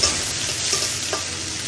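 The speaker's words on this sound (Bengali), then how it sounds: "এখন আমি পেঁয়াজটা ভেজে নিচ্ছি তেলের মধ্যে" Thinly sliced onions frying in oil in a kadai give a loud, dense, even sizzle right up close, with a few faint stirring taps.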